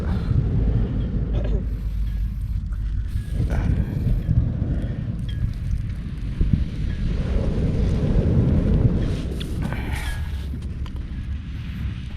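Loud, constant wind rumble from the sea at a beach campsite batters the microphone, low and heavy, with occasional brief gusts rising above the steady roar.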